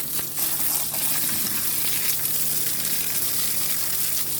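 Water gushes steadily from a hose, soaking the soil in a wooden planter, a continuous close hiss and splash with no voices.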